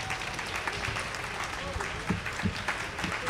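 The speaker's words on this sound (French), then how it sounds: "Shaban Kassi, je vous demande de l'applaudir." Steady audience applause for a young television talent finalist at the Salon de la Radio 2017, a dense wash of clapping with some voices and crowd noise mixed in.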